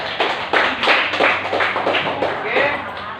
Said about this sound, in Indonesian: Kita kasih tepuk tangan dulu ke kelompok 2